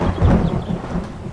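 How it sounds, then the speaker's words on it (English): Rumbling thunderstorm in the survival game 7 Days to Die, a loud, continuous low roll of thunder with rain hiss spread across the whole short stretch, no voices. "there's a lovely thunderstorm going on"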